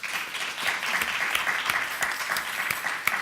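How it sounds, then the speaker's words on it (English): Applause from a conference audience at a legislative conference session, a steady wash of clapping with a few sharper claps standing out, moderately loud throughout. "Please give them a round of applause."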